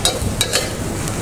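Mushrooms frying in oil and butter are stirred in a pan for pasta, giving a steady close sizzle with a few sharp scrapes and clinks of the utensil near the start.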